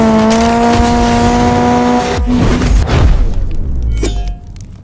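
A mobile racing video game's car engine roars loudly and steadily, then pitches shift, tires squeal and a crash-like burst breaks in before the revving fades out.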